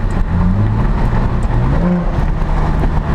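Saab 9-3 Turbo X engine heard from inside the cabin during a downshift, a loud, steady low drone with a brief rise in revs partway through, no talking.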